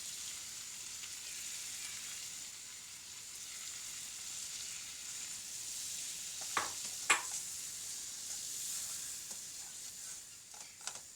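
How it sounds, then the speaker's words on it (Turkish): Flour toasts in a pan with a soft, steady sizzle and light frying hiss throughout, plus a few brief scraping stirs near the end, quiet and close. "Unumun güzelce kavrulmasını sağlayacağım."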